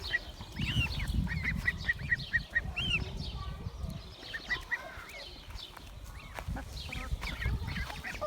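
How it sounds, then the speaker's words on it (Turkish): Geese on a farm honking in repeated calls, mixed with ducks and other poultry nearby, over steady low farmyard rumble and background noise. "Onlar da kazlarımız arkadaşlar bakın"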